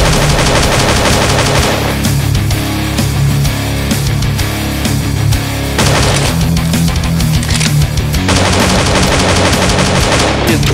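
Gunfire in the 2D horror shooter Slendytubbies 2D Revolution: loud, dense bursts of rapid shots in several stretches, layered over a continuous game soundtrack, with no talking.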